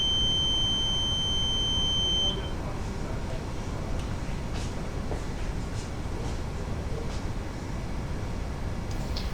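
An oil mist detector head alarm going off during a smoke test, a steady high electronic tone for about two seconds that then stops, heard over constant loud machinery hum.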